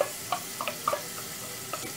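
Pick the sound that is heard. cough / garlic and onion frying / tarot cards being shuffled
garlic and onion frying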